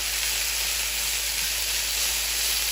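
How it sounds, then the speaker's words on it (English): Chicken searing in a hot pan with browned fond for chicken Marsala, giving a steady, even hiss and sizzle that stays constant without pauses. "So now we're going to sear this side of it for a few minutes."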